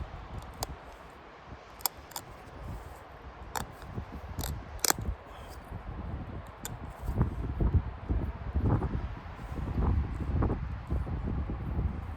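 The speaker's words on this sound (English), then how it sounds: "Hope that wind isn't too noisy." Wind buffets an outdoor microphone during a hike, gusting in uneven low rumbles that build in the second half, with sharp clicks and taps scattered over it.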